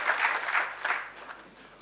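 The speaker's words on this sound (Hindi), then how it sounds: "ताली बजाकर इनका अभिनंदन करिए" An audience applauding after a speech at a book event, a short burst of clapping from a crowd that fades out over about two seconds.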